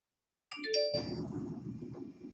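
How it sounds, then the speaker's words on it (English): PayPal payment notification chime on a computer during an eBay seller session: a short bright tonal ding-dong at about half a second, then a fuller ringing tone that sustains to the end, heard alone without talk. "I just got a PayPal notification."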